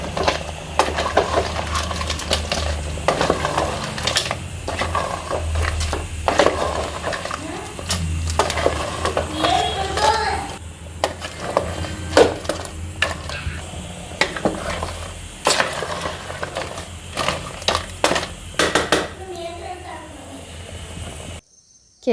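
Crabs tossed with masala in a metal pot rattle and clatter like stones under repeated stirring, with an oily sizzle beneath and a voice talking over much of it.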